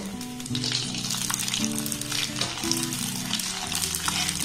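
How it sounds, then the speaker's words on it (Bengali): Raw dried rice drops into bubbling hot oil in small batches, giving a loud, dense, continuous sizzle with fluctuating crackle, heard close up and alone without any speech. "সেই চালটা আমি এই তেলের মধ্যে দিয়ে দেবো"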